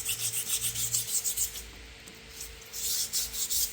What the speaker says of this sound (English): I'm going to do some sanding.